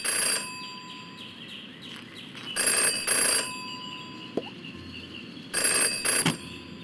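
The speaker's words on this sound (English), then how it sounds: "Jenny had learned never to ignore a ringing phone" A telephone rings in the video game Jenny LeClue, bright electronic trills in three bursts over a quiet ambient hum, with a soft click partway through.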